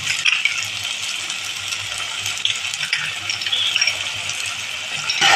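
Beaten sour curd goes into masala frying on medium heat for catla fish kalia, a loud, continuous hot sizzle and crackle from the pan throughout, heard up close.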